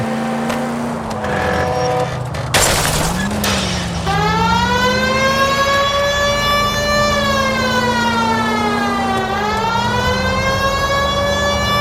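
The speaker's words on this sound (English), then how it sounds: "We might get there quicker if you use the siren." Police car siren wailing up and down close by, loud and continuous over a low engine rumble, with a brief burst of noise early on before the wail settles into long rising and falling sweeps.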